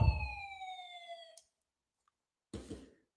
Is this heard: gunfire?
no